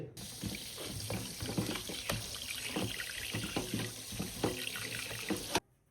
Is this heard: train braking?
no